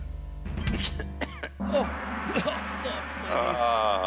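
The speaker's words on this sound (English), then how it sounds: "you start coughing" A person clears their throat and gives a few short coughs close by, amid casual podcast talk.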